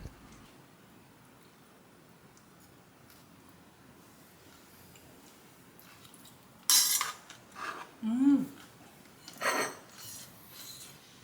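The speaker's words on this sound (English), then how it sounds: "For the dipping sauce, I just mix soy sauce with a little mustard." A utensil clinks and scrapes against a small dish while soy sauce and a little mustard are mixed into a dipping sauce, in a few short, close bursts after a quiet stretch.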